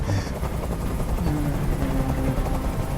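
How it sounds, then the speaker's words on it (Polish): Helicopter rotor noise in the video game Detroit: Become Human, a steady loud rumbling drone from a helicopter in a hostage scene, sustained throughout with no speech. "Nie mogę już znieść tego hałasu. Każ swoim odwołać helikopter!"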